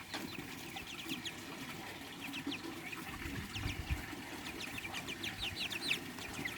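Chickens and roosters, a mix of rescue hens and young Rhode Island Red and Australorp cross birds, cluck and squawk in a steady overlapping chorus. The calls come close and fairly loud, with soft rustling and water-like noise underneath.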